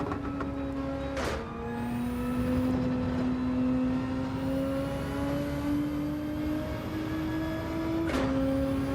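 Race car engine in Gran Turismo 7 drones steadily through a lap, its pitch climbing gradually with two brief gear-shift breaks, loud and continuous with no talking.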